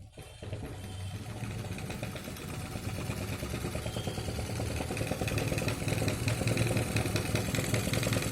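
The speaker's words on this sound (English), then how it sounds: "this is rotating, motor is working with simple materials" A small DIY electric motor built from plywood and wooden pieces switches on and runs with a rapid clattering buzz, steady and close, slowly growing louder.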